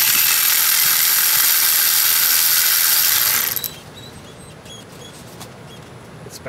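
A Milwaukee ratchet turns a spark plug socket during a 100k-mile service on a Lexus GS300, giving a loud, dense run of rapid clicking for about three and a half seconds before dropping to quiet background.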